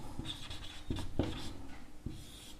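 Pen writing on paper, faint scratchy strokes with a few soft taps, close and quiet in an otherwise still room.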